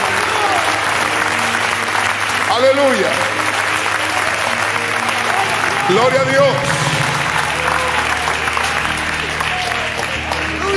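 Church congregation applauding during a Spanish-language evangelical service, sustained loud clapping throughout with voices shouting praise over it.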